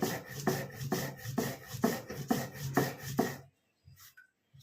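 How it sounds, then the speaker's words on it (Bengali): Garlic, green chili and black cumin ground on a stone slab with a rhythmic rasping rub, about seven regular strokes close up, then stopping into near silence with a few faint knocks. "শিলে বেটে নিচ্ছি।"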